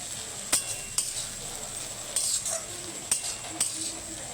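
Chira pulao with fresh coriander leaves is stirred in a pan, giving a soft low hiss broken by five or six sharp clinks of a spoon on the pan's rim at irregular intervals, close and faint, with no voices.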